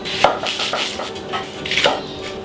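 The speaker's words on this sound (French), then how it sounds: "Oignon, table, couteau rouge bien sûr, lamelle de bord en bord, pas trop fine, égalise, petit dé." A knife chopping onion on a board in close, sharp repeated strikes, about five or six uneven cuts over a couple of seconds.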